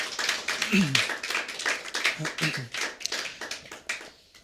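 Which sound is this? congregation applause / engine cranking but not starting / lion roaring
congregation applause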